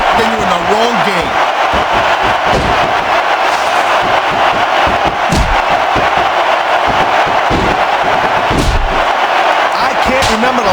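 Arena crowd in the WWE SmackDown vs Raw 2006 video game roars steadily throughout a women's submission match, with sharp thuds and impacts cutting through the din and commentators' voices talking over the noise.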